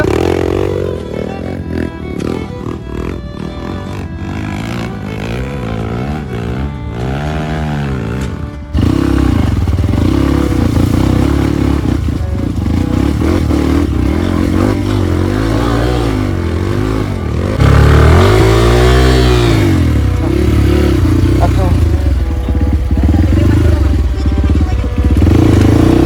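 Off-road trail motorcycle on a rain-soaked village trail, engine revving hard and accelerating in repeated loud surges, with rising and falling pitch sweeps and clattering of the bike over rough ground throughout.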